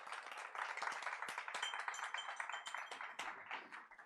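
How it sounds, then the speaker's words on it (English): Audience applause at a women in agrifood summit as the first speaker walks onto the stage: dense, continuous clapping from many hands, fairly distant and steady with scattered sharper claps. "Applause is ongoing."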